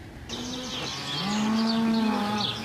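Cows on a farm near La Crosse, Wisconsin, give two close, loud moos, a short low call followed by a longer drawn-out one, with faint bird chirps in the background.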